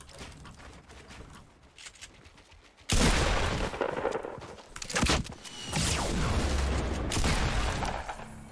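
Sniper fire rings out in a Fortnite Battle Royale match, with a sudden loud crack followed by further sharp shots and busy game noise that stays loud afterward.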